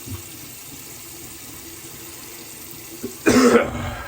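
A short burst of coughing near the end, loud and close, after a few seconds of quiet room tone with faint tap water running in the background while rinsing after shaving.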